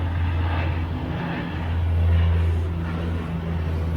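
A steady engine drone of an airplane passes overhead, swelling slightly in the middle and holding a low hum throughout, with no voices.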